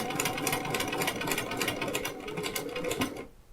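Close and loud, a sewing machine hums steadily with a rapid needle rhythm as it sews a quarter-inch quilt seam on a spoke hexagon block, then quickly winds down near the end.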